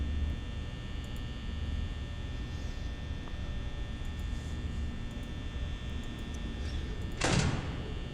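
A door closing in the horror video game Five Nights at Torchwood: a single short, loud thud near the end, cutting through a constant electrical mains hum that fills the whole scene.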